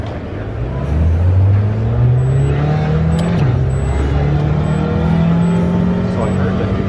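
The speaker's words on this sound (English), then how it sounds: "We're in an Audi, you're in a front wheel drive Audi touring car." A front-wheel-drive Audi touring car engine drones steadily at a performance racing trade show, its rising and shifting tone sustained and loud across the whole stretch, with talk mixed in.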